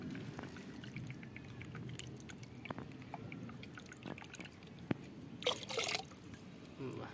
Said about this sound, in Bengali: এই এটা ওষুধ দিলাম, মেশানো হচ্ছে ওষুধ, জলে মেশানো হচ্ছে।